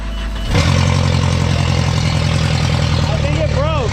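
A 1.8T-swapped VW Golf 3 race car engine starts up and settles into a loud, steady idle close by, with a rumbling exhaust drone and a short rising whine near the end.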